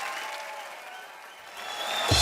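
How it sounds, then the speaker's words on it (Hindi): Studio audience applause for a comedy talk show in India: steady dense clapping throughout, swelling slightly louder at the end, with no clear talk over it. "तो आपकी जोरदार तालियों के बीच मैं इनवाइट करना चाहूंगा the one and only king Khan, mister Shahrukh Khan"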